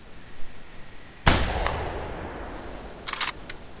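A single loud hunting rifle shot in theHunter video game, sharp and close, followed by a long rolling echo that fades over a couple of seconds, then a few faint ticks.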